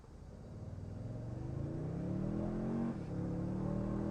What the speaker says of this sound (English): let's do some 0 to 60s here